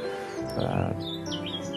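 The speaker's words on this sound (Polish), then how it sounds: "I te ptaszki ćwierkające tle jednak dają nam e, dużo takiego spokoju." Small birds chirp and tweet in the background of a quiet outdoor rest spot, with a run of short, high calls clustered in the latter part and a soft steady ambience underneath.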